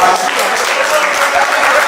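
Guests at a Cameroonian religious wedding in Yaoundé break into brief, loud applause, a dense burst of clapping under crowd noise lasting under two seconds.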